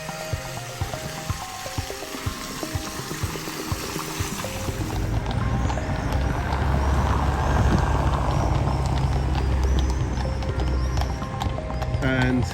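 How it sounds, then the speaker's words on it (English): Horse-drawn carts clip-clop along the cobbled streets of Krakow, a steady rhythm of hooves approaching and growing louder amid busy city ambience and distant chatter. "And here come the horses and carts."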